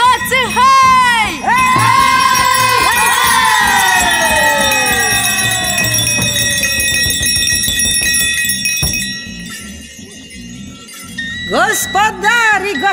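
At a Romanian winter Plugușor custom in Fălticeni, a crowd lets out loud, rising "hei" shouts at the start and again near the end, while bells jingle in a sustained, ringing wash between them.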